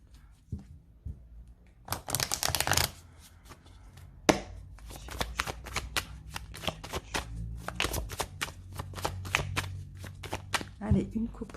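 Oracle cards from a mirror oracle deck being shuffled by hand, a burst of quick riffling followed by many sharp, rhythmic card taps and flicks, close and clear, with talking at moments between them.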